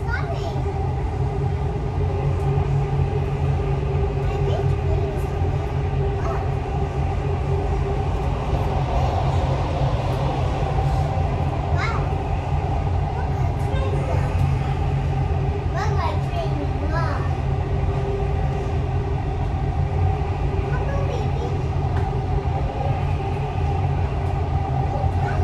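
Dubai Metro train running, a steady low rumble and rolling hum filling the cabin throughout, with faint voices and small clatters on top.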